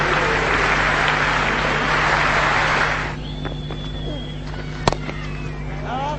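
Crowd at a Test cricket match in Cape Town applauding Sachin Tendulkar's century against South Africa, a broad loud wash of clapping and cheering that fades after a few seconds, leaving quieter ambience with scattered sounds.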